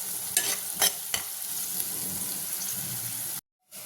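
Onions fry with turmeric and salt in a pan, sizzling steadily while a spoon stirs and scrapes in a few quick strokes, before the sound cuts out briefly at the end.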